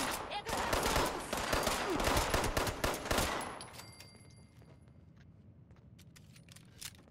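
Gunfire in the Fallout 76 video game: a loud, rapid burst of many overlapping shots lasts about three seconds, then gives way to a quieter stretch with a few scattered sharp clicks.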